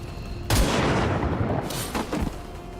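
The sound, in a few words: frag grenade explosion in video game XCOM 2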